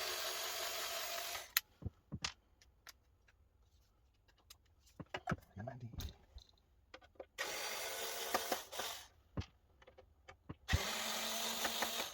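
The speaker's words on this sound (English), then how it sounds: "I'm feeling my screwdriver here could do with a bit of a charge actually." A cordless electric screwdriver runs in three whirring bursts of a few seconds each while servicing an Ashton 8 channel mixing desk, close by, with clicks and handling knocks between the bursts.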